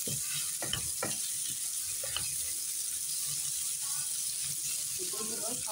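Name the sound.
chili and spice paste frying in a pan for beef bhuna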